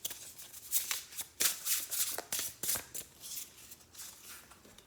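Priestess of Light oracle cards being shuffled by hand, a run of crisp riffling and slapping bursts close up, quiet and without talk.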